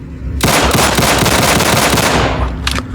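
Rapid pistol fire from a modern weapon pack in Fallout 4, a loud dense burst of fast shots lasting about two seconds, then a short pause and a brief second flurry.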